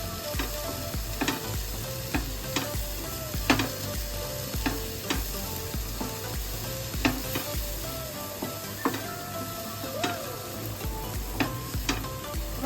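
Spoon scraping and stirring a thick spicy masala with fresh coriander in a pan for pav, soft sizzling underneath with a steady run of sharp scrapes and taps against the metal, close and alone with no voices.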